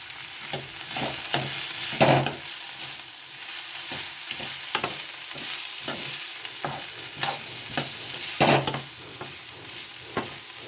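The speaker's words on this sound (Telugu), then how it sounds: "ఇంకా గుగ్గిలు పోసి కలుపుకోవాలి." Boiled pigeon peas (guggillu) being stirred with salt in a pan, a series of close, repeated scraping and knocking strokes of a spoon over a faint background hiss, with no talking.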